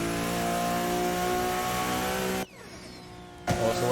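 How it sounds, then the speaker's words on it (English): A turbocharged car engine in the Assetto Corsa racing game revs hard at a sustained high pitch, then cuts off abruptly for about a second before roaring back, loud and close with no talk. "Listen to the turbo though."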